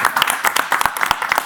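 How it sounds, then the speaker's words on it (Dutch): Brief, close burst of audience clapping for the winner of a cake at a talk show event, a quick flurry of claps lasting just over a second. "Mag ik een applaus voor de winnaar van de taart?"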